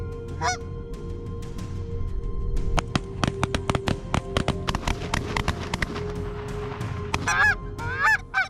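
Geese honking repeatedly at close to moderate range, several overlapping calls in bursts, with a few sharp cracks and knocks scattered among them.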